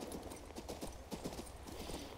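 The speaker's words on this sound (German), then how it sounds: "Wo ist mein Pferd? Da ist mein Pferd." Horse hooves clip-clopping in the video game Kings Bounty 2, a steady trotting rhythm of soft knocks, fairly faint over a low game ambience with no speech.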